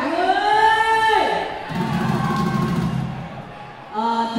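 Wedding reception guests break into applause and cheering as a male singer is welcomed. A broad crowd roar swells between stretches of amplified speech from an emcee, and the talk returns as the noise fades.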